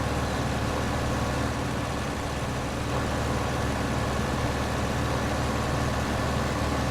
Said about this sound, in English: the engine sounds in this game are not realistic whatsoever